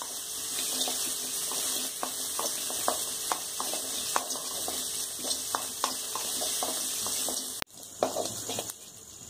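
Ginger sautés in a pan with a constant soft sizzle, punctuated by light, regular ticks and scrapes of a spatula stirring, then a brief break and a few busier knocks near the end.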